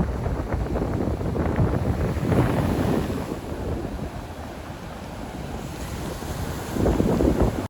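Sea waves wash onto the shore at Somnath in Gujarat, a continuous rushing surf mixed with heavy wind buffeting the microphone, swelling and easing with each breaker.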